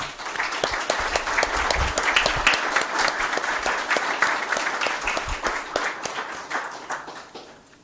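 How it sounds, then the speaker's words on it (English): An audience at a Providence mayoral debate in the South Providence Library gives a steady round of applause, dense clapping held for several seconds before tapering off. "So please, a round of applause."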